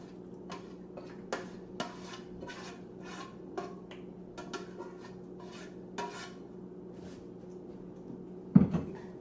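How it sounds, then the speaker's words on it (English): A pan is lifted and handled while cooking, giving a run of light metallic clinks and taps at irregular intervals over a steady kitchen hum. A louder clank sounds near the end, and no one speaks. "I'm just going to lift my pan up."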